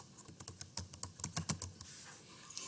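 Keys clack on a computer keyboard while a search term is typed into a code editor's search bar, a quick irregular burst of close, crisp taps with brief pauses and no talking.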